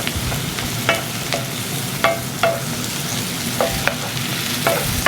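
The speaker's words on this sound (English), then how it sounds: "we'll let these saute a bit more here, probably about another 3 minutes" Thick-sliced mushrooms saute in a pan with a steady close sizzle, punctuated by repeated utensil scrapes and taps as they are stirred, no voices.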